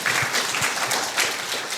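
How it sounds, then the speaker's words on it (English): Short burst of audience applause at a public talk on luxury housing, a modest crowd clapping unevenly and moderately loud for a couple of seconds, without speech over it. "oh, sure, if you want to clap."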